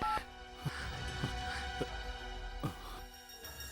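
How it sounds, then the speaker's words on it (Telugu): A phone number being dialed, with a short run of electronic key tones and clicks over a steady background hum. "వెంటనే జోసెఫ్ ఫోన్ చేసి నేను ఎక్కడున్నానో ఏంటో చెప్పాలి."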